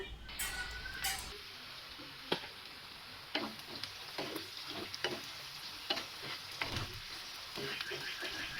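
A pan of dried fish (shutki) with onion and garlic is stirred as it fries, a steady sizzle broken by repeated scraping and clinking strokes of the spoon, close and clear with no talk.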